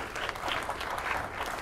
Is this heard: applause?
yes